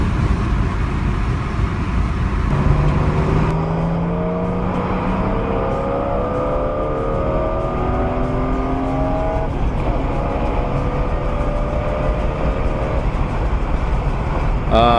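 BMW E36 with an S54 engine swap pulling hard in fourth gear, a steady loud engine drone with rising harmonics sweeping upward as it accelerates, close and continuous through the run.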